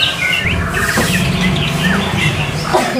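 A white-rumped shama (murai batu) songbird sings loud and close with varied whistled and chirping phrases over a low background hum, with no talk.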